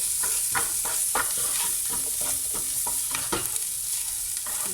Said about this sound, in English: So this is my onion and chili and thyme mixture. Getting nicely browned.